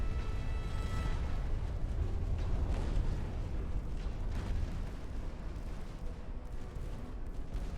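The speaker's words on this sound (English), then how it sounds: "Took another torpedo to the rear." A torpedo strikes a warship in Ultimate Admiral: Dreadnoughts, setting off a long, dense rumbling explosion with crackling bursts and booming that rolls on without letting up.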